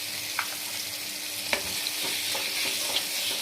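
Mango chutney is stirred in a frying pan, with a steady close sizzle and scattered spoon scrapes and clinks across the stretch.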